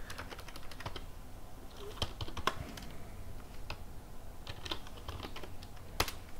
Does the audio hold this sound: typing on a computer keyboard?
yes